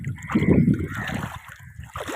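Someone wades through dam floodwater at the Mokeshwar dam, each step giving close, uneven splashing and sloshing with gurgles, strongest early on and then settling into softer sloshes.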